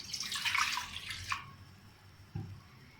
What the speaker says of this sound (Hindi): पानी शामिल किया, 500 ग्राम पानी है।